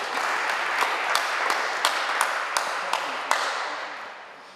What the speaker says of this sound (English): Yes, please, you can give a round of applause.